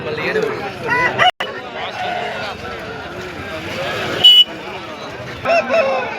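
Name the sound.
rooster crowing at a fighting-cock market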